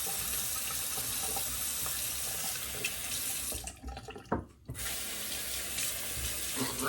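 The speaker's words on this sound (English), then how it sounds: "Rinse all that off." Tap water runs steadily into a bathroom sink as shaving lather is rinsed off, a continuous hiss that briefly drops out once before resuming.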